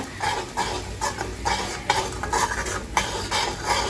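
A spoon stirs chilli powder through a gooseberry pickle in a rhythmic series of scraping, clinking strokes, about two per second, close and fairly loud with no talking.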